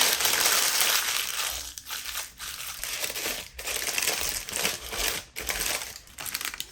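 Parchment paper crinkles and crumples in a kitchen while oatmeal cookie dough is prepared, a close, continuous rustling with a few brief pauses.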